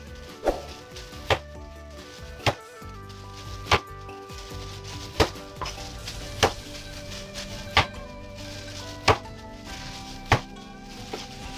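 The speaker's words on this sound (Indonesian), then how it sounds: "Lalu dicincang ya teman-teman." Crushed shrimp being chopped with a knife on a cutting board: a steady series of about a dozen sharp, evenly spaced knocks, close and clear over a quiet background.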